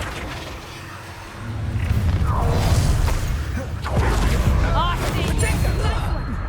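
Magic spell effects in Hogwarts Legacy, a series of booming blasts, whooshes and crashing impacts layered over game ambience, loud and busy, with a voice speaking over them.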